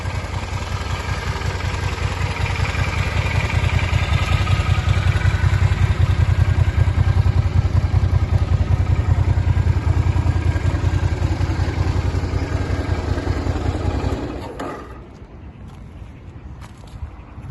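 A Suzuki Intruder 400 motorcycle from Japan with 15,638 km on it idles steadily and smoothly up close with an even mid-pitched rumble, then drops noticeably quieter near the end.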